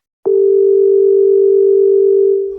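A telephone ringback tone sounds while a call is placed, a single steady loud electronic tone lasting over two seconds with no talk.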